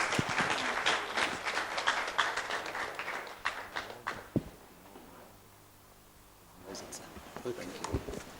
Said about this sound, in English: Can you please make that applause for him a lot louder